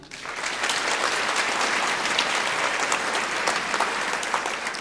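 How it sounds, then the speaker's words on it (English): Audience in an auditorium, mostly women, clapping hands together in a steady, dense burst of applause that swells quickly and holds evenly, close and loud with no talking over it. "Clap your hands if you ever played on a sports team"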